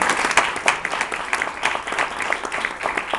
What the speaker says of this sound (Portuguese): salve de palmas, por favor